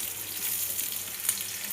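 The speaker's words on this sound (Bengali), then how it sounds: "একটু সামান্য পেঁয়াজগুলো লাল করে ভেজে নেব" Onions frying in hot oil until browned, a soft continuous sizzle with a faint crackle, heard close and alone with no talking.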